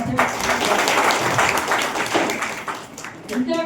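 Audience applause at a building inauguration where an MLA is welcomed as chief guest: dense, continuous clapping from a crowd, with voices mixed in throughout.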